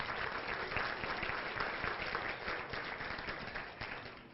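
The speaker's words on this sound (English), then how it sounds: "So everybody give Nikki a round of applause for all that she does." A meeting audience applauds steadily for several seconds, a dense, even wash of clapping heard alone in a room, tapering slightly at the end.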